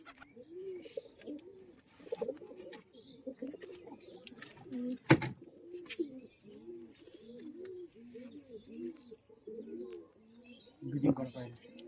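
Pigeons cooing at a pigeon sale in Murshidabad, West Bengal, with several overlapping repeated coos close by, a few chirps and sharp clatters, and people talking quietly in the background.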